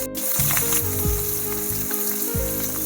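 Long beans and steamed potatoes hit a hot pan with onion and green chilli, giving a loud, steady sizzle with a few scraping stirs throughout.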